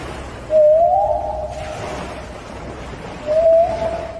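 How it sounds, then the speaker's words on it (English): Gray whale calls rise in two drawn-out, tonal moans or whistles, each swelling loudly then fading, set against a murky underwater background rumble. "Gray whales are known for their complex communication system, using clicks, grunts, and whistles to interact with each other."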